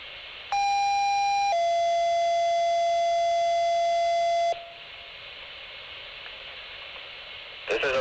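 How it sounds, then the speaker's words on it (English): Fire dispatch final alarm tones for a fire chief's memorial: a loud electronic tone steps to a second, slightly lower pitch and holds for about three seconds before cutting off, leaving radio hiss. "This is a final alarm for Fire Chief Tom Martin of the Black Eagle Fire Department"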